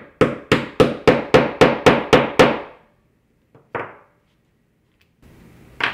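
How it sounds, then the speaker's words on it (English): A mallet pounds a metal snap into faux leather for a keychain craft: nine quick, evenly spaced, sharp knocks, then after a pause a lone blow and a fainter tap, close and loud with no talking. "take your mallet and hit it a couple times"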